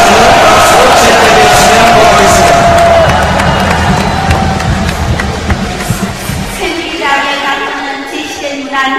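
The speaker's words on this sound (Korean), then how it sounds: "이상 지시된 당헌에 동의하시면 박수로 채택해 주시기 바랍니다" A party convention crowd claps and cheers loudly to adopt its charter, a roaring mass of applause and voices that thins toward the end as a voice starts speaking.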